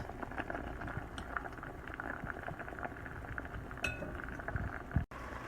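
A pot of cacao pods and vinegar liquid simmers steadily, a soft continuous bubbling with a few faint clinks of metal near the end, close and quiet with no talking.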